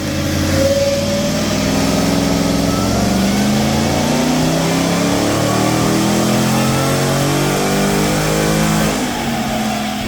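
A modified RAM TRX with Stage 3 upgrades revs hard on a dyno, the engine note climbing and sweeping through the rev range in long rising pulls, loud and close throughout with no talk.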